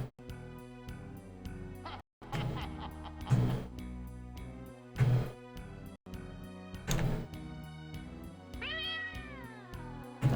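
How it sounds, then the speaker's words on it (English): A cat meows several times in the Ravenloft: Strahd's Possession video game, its distinct calls rising over steady eerie game music, with a dull thunk mixed in. "I hear cat."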